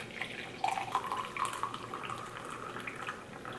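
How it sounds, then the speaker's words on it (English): French press coffee poured into a cup, a faint, close trickle of liquid with small splashy drips, steady for a few seconds with no talking. "I'm gonna pour it into my cup."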